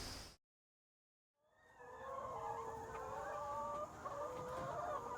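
Chickens cluck and crow on a regenerative farm, several birds calling in overlapping bursts at moderate distance after a brief silence, with a faint steady background hum.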